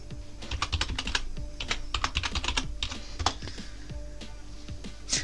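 Computer keyboard typing mixed with mouse clicks during a Linux Mint install, a steady run of close, crisp keystrokes and clicks with short pauses, alone with no talk.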